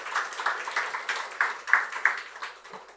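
A church congregation at a Sunday service claps to welcome a visiting mother, a light, uneven patter of hand claps from a modest group, fairly close, rising and falling in small bursts.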